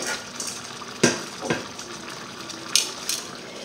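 A lid goes onto a pot of chicken curry with coconut set to simmer, giving two distinct metallic clanks over a soft background hiss, near and fairly quiet, with no one speaking.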